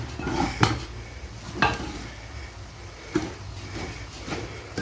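Sesame seeds roasting dark brown in a saucepan: a spoon scrapes and knocks against the metal pan in a few separate strokes, over a faint, steady dry sizzle.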